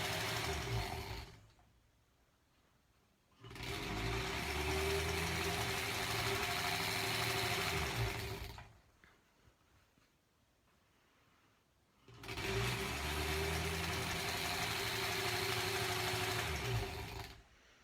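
A sewing machine stitches quilt squares in three sustained bursts of fast, steady mechanical whirring, with quiet pauses in between.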